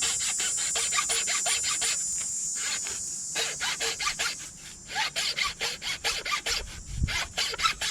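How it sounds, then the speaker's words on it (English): A dull hacksaw cutting through stock for an Inuit knife build, rasping strokes that start blended and settle into a regular back-and-forth rhythm, close and fairly loud, with no talking. "Hacksaw's a little dull, not gonna lie."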